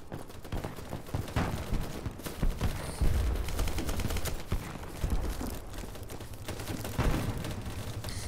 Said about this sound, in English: I don't even know what they're shooting at.